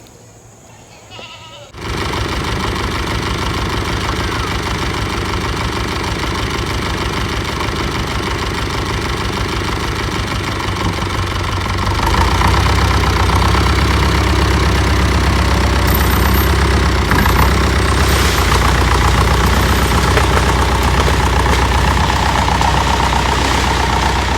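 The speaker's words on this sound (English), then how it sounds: "Pull that one with the tractor." A tractor engine idles in a steady, droning rumble that grows louder and deeper partway through and then holds constant to the end.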